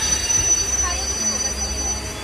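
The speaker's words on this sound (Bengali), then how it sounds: "এই যে আমাদের ট্রেন ছেড়ে দিল এখন" A departing train rolls out with steady low rumble and a faint high wheel squeal running throughout, close and continuous, with a voice murmuring briefly beneath.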